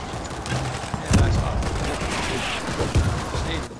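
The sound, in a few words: gunfire in the video game World War Z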